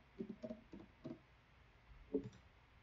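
A handful of soft, quiet computer mouse clicks, spaced irregularly against a faint background hush, with no one speaking.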